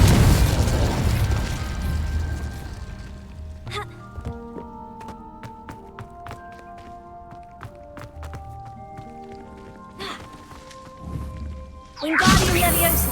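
A fiery Incendio spell blast from the Hogwarts Legacy game opens with a loud burst, then gives way to tinkling magical tones, and a second whooshing burst comes near the end.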